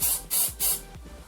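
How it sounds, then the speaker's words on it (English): Canned smoke spray hisses at a house smoke detector in three quick, close, loud bursts with brief pauses between them. "Let's activate this detector with some smoke spray."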